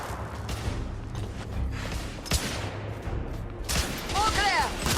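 Suppressive gunfire in a battle in The Order 1886, a dense burst of rapid shots and booms from a firefight, mixed with shouted voices and clanking mechanisms.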